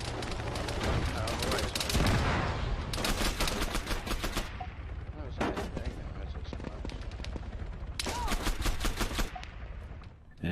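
Rapid bursts of gunfire ring out in an Arma 3 King of the Hill match, several dense volleys of close, loud shots separated by brief lulls.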